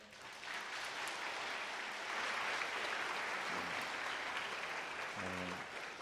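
Steady applause from a church congregation during a service, sustained clapping throughout at moderate distance, with a brief voice near the end.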